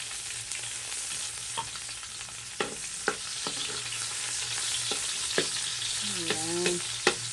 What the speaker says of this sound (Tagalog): Dito na po yung ating ahos. Ayan, medyo brown na siya. Ilagay na natin ating sibuyas.